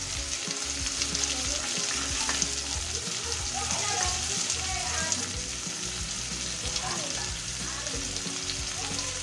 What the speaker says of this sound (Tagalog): Igigisa na po natin ang ating bawang.